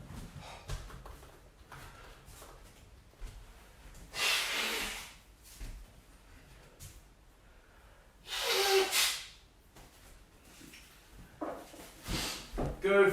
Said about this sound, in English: Sorry, I had to blow my nose.